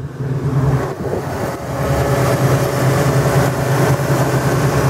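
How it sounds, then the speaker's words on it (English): A 1969 Ford Mustang engine runs loud and close, dipping briefly before settling into a steady, deep, rumbling roar with no talk. "Rev the engine up."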